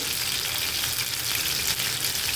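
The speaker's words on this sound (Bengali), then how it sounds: "এগুলাকে ভাজবো, ভেজে একটু সস দিয়ে রান্না করব" Chicken pieces frying in oil in a pan, a steady, close, dense sizzle that continues evenly throughout with no talking.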